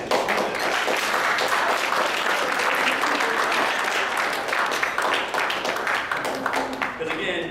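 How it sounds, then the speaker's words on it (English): A crowd of parents at a sports team gathering gives a sustained round of dense applause, loud and steady throughout, with some voices mixed in. "your sons owe you guys a big round of applause for all the work you put in"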